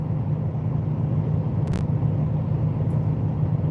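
Road traffic in Detroit, Michigan rolls past as a constant low rumble, with a brief brighter swish partway through and no speech.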